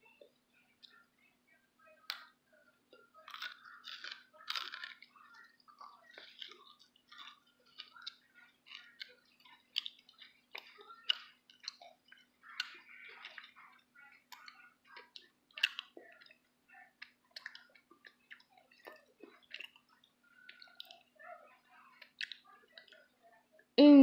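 Someone chews a Heath milk chocolate toffee bar with small, crisp crunching and clicking bites, quiet and close, scattered irregularly across the stretch with brief pauses.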